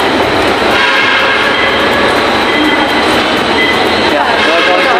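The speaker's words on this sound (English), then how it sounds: "Even using the LRT and MRT is still new to me" Steady loud rumble and rattle of an LRT/MRT light-rail train in motion, wheels running continuously on the rails throughout with faint voices in the carriage.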